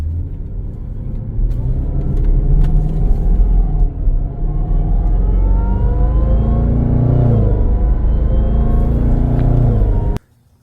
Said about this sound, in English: hear the supercharger a little better